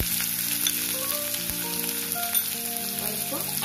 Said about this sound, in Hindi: अब कटा हुआ प्याज डाल देंगे।